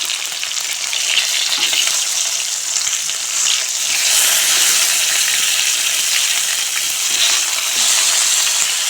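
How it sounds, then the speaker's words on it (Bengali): Pieces of rohu fish sizzle in hot oil as they are turned, a continuous close, bright frying hiss with faint scraping and bubbling, and no one speaking. "এখন মাছ উল্টে দেবো।"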